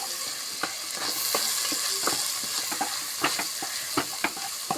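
Beef varattu with chilli flakes is stirred and roasted in a pan, giving a constant bright sizzle broken by regular scraping strokes of a spoon.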